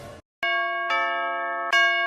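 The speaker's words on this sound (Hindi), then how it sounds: "अरे भाई फिर घंटी कौन बजा रहा है" A doorbell rings in a home, first a short strike, then two long sustained ding-dong chimes with bright ringing overtones. Each tone rings out loud and close and overlaps the next. There is a brief silence before the first chime.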